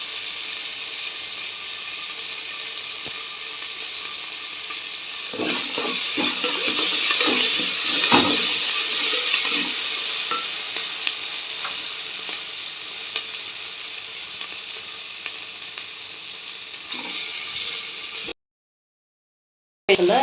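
Spices and ingredients for tomato rasam frying in a pan, a soft steady sizzle with a louder stretch of stirring scrapes and clatter in the middle, then quieter frying before a sudden cut to silence.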